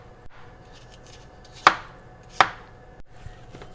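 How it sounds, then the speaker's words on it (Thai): A knife slices thinly through a peeled apple on a cutting board while preparing apple pie filling, giving two sharp, close cuts over a quiet background. "หั่นเป็นชิ้นบางๆประมาณนี้ค่ะ"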